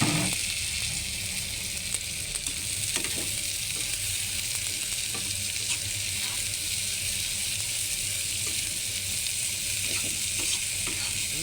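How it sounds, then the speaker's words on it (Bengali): Loud, continuous sizzling of dried fish frying with onions in hot oil, with occasional stirring scrapes and clicks throughout, no voices. "সুটকিটা ভাজা ভাজা করবো পেঁয়াজের লগে ভাজা ভাজা করবো"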